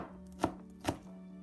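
Knife chopping garlic on a cutting board, two sharp, close knocks about half a second apart over a faint steady hum.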